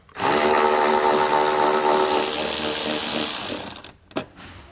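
Power tool with a 10mm socket backing out tail light bolts on a 2015 Dodge Grand Caravan, a loud continuous whirring burst lasting several seconds before cutting off with a few rattling clicks.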